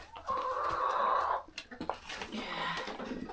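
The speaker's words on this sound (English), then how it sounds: "Good morning, chickens." Hens clucking and murmuring close by inside a warm coop in winter, a steady run of clucks followed by softer, scattered calls, with a voice speaking briefly.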